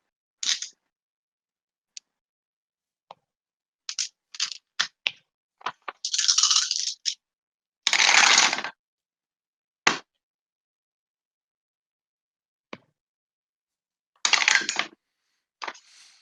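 Dice rattle and clatter across a table during a tabletop roleplaying game, in scattered bursts: quick clicks and a few longer tumbling rolls, close and fairly clear with no talk over them.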